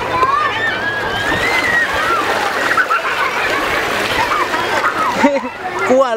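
A child being lowered into sea water makes continuous splashing and sloshing, loud and close, with people talking over it throughout.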